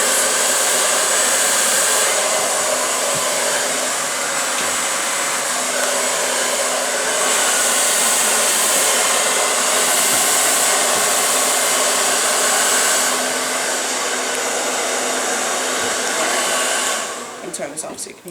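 A hair dryer blows continuously on hair during a salon-style blow-dry, a loud, even whooshing roar held for the whole stretch before it is switched off near the end.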